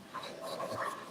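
A dog pants softly and quickly in a quiet room, a faint, close breathy rhythm with no talking.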